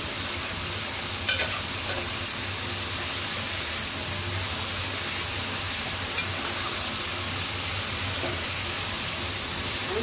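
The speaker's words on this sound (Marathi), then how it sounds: "चांगली ढवळून घ्यायची।" Sprouted field bean curry stirred in a pan, a steady soft sizzle and scraping with faint occasional clinks of the spoon against the pan, continuous and close.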